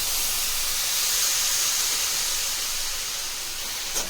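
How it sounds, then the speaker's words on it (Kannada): Milk poured into carrot halwa frying in a pan raises a steady, loud hiss and sizzle that holds unbroken for several seconds, with no voices over it. "ಈಗ ನೋಡಿ, ಹಾಲು ಸೇರಿಸ್ಕೊತಾ ಇದ್ದೀನಿ."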